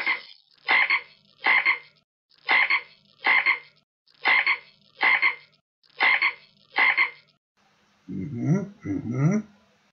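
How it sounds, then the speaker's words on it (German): A frog croaks in a steady series of paired, rasping calls close by, repeating evenly at short gaps, followed by a lower, gurgling croak at the end. "Was der Fridolin, der Frosch, gerade gesagt hat"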